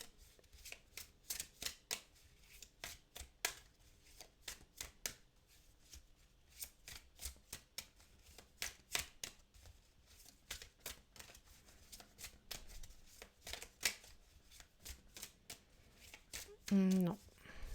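Planet oracle cards are shuffled by hand in quick, repeated riffling bursts with short gaps, close and fairly quiet, with a person speaking briefly near the end.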